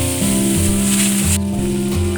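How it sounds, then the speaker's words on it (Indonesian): Ground chili, shallot, scallion stalks and tomato paste frying in a pan for balado, with a steady, close, loud sizzle throughout and no voices. "Lanjut kita goreng."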